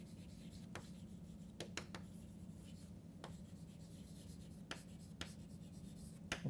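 A lecturer writes on a board in a quiet lecture room, producing soft scratchy strokes and a few sharp taps spread irregularly over a low room hum, with no talking.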